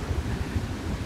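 Gusty wind buffets the microphone at a beach resort campsite, low rumbling thumps and a steady rushing wash, close and moderately loud, with no voices.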